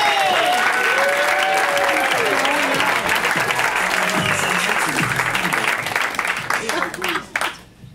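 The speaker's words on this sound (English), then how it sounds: "give up a big round of applause for Mr. Eric Lee Huffman!" Sustained audience applause at a stand-up comedy show, loud and dense clapping filling the room for about seven seconds before tapering off and stopping near the end.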